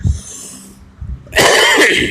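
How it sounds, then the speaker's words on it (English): A person with a lingering cold coughs nearby, a couple of harsh bursts followed by a louder rasping cough, with no speech. "I'm still coughing up that cold from last week."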